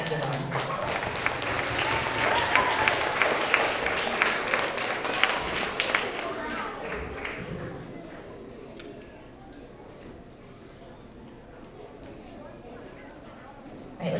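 An audience claps loudly at a school award assembly for third to fifth graders, a dense burst of applause that fades after about seven seconds into quieter murmuring and voices.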